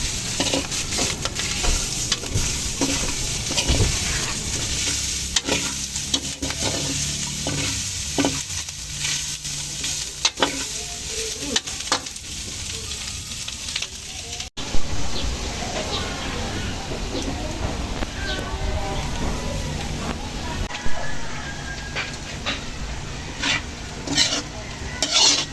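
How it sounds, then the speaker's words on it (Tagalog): Fried pork being stirred in a hot pan for pork humba, with steady sizzling and frying and repeated scraping and stirring strokes running throughout at a constant, close level. "Yan mga ka-idol, halo lang. Haluin lang ng mabuti."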